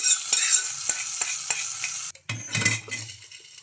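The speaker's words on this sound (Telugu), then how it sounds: "ఇంకా ఇప్పుడు ఈ పోపుని అయితే చట్నీలో అయితే" Hot tempering poured into chutney with a sharp sizzle; a steady broad hiss of frying with light ticks of a spoon, then a brief pause and a louder burst of crackling sizzle with low bubbling.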